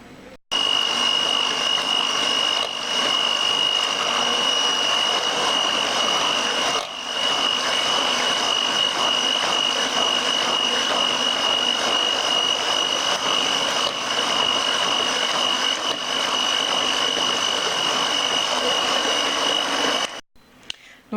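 Electric hand mixer whipping muffin batter from a boxed mix in a bowl, a steady high buzzing whir running nearly continuously up close, cutting off briefly near the start and again at the end.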